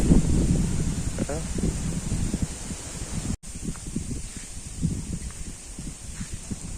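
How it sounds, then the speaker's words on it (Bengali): Strong cyclone wind gusts steadily in a village, with leaves rustling and a low rumble buffeting the microphone throughout; a voice briefly surfaces in the noise. "দেখেন কি পরিমাণে বাতাস।"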